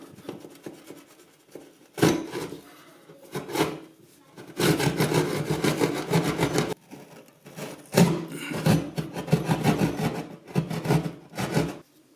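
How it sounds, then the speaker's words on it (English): A sheetrock knife stabs and saws through a drywall panel, giving loud scraping, rasping bursts in irregular strokes with short pauses between them, close up. "Now I have a sheetrock knife. Let's just stab right through."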